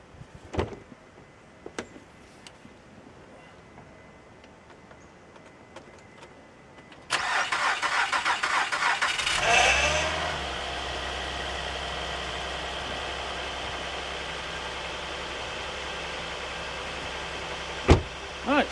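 A 2008 Honda Pilot on a snowy day, heard first with faint clicks and quiet handling, then a sudden loud crank and catch as the engine starts, followed by a steady idle with a sharp click near the end.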